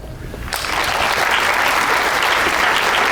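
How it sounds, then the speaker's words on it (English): An audience at a 2022 Wayne County 4-H fair pageant breaks into sustained applause for the contestants, starting abruptly after a quiet half-second and holding steady and loud throughout. "Give them all one more round of applause."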